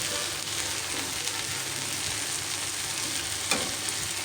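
Okra sizzles steadily as it fries in a pan, a dense, even crackle with a brief louder pop near the end and no voices.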